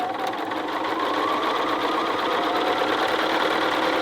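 A sewing machine runs a continuous, loud, even whir while stitching a diagonal quilt seam, with no pauses across the run.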